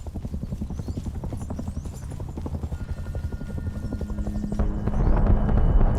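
A helicopter in a video game flies through the whole stretch, its steady low rotor thump loud and continuous, swelling near the end as a tonal whine joins in.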